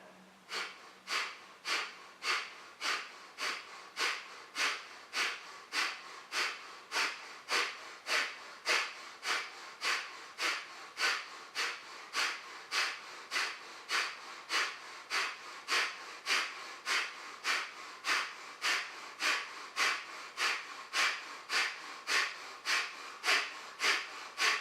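Kapalabhati breath of fire in yoga: rapid, forceful nasal exhalations in a steady, even rhythm, roughly two per second, close and loud, continuing for about twenty-five seconds without talk.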